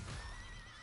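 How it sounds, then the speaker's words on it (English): Shamos, a small monster in the video game Monster Hunter World, gives horse-like neighing and whinnying with clopping underneath, all quiet and alone with no talking. "Shamos sound like freaking horses"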